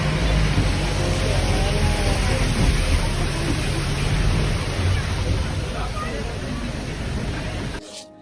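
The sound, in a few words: heavy rain in Munnar hills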